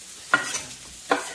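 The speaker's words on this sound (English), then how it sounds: "And now we're going to bring in our beautiful shallots and garlic." Shallots and garlic sizzle in sesame oil in a wok as a soft frying hiss, with two sharp scraping or tossing bursts about a second apart and no talking.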